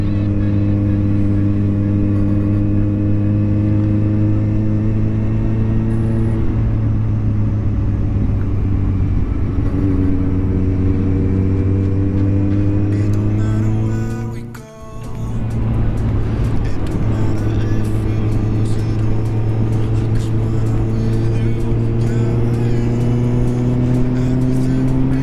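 A motorcycle cruises along a road near Niedzica castle in the Podhale region at sunset, its steady engine drone holding a near, constant pitch, dipping briefly midway before resuming, with no talking.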